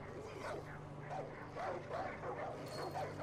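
Hostile dogs bark and yip in the Far Cry 5 video game, a moderately loud flurry of short yelps and whimpers in the mid-distance over steady game ambience.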